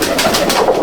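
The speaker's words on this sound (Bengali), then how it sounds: "এত মানে নজরওয়ালা পায়রা" Inside a Madhyamgram loft of imported racer pigeons, several birds keep up a brief, close chorus of soft rolling coos, loud and unbroken, with no people talking.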